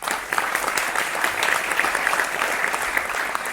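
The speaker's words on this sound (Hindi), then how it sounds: "जोरदार तालियों से उनका स्वागत करें।" Steady studio applause welcomes guests joining a Hindi TV political debate on the Uttar Pradesh election, an even wash of clapping that holds at a constant level for the whole stretch with no voices above it.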